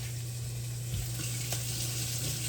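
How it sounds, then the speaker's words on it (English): Onions sauté in hot bacon fat with an even, moderate sizzle, steady and unbroken, along with a low background hum. "Got the bacon fat heating. I'm going to go ahead and get the onions in there and let them saute for a few minutes."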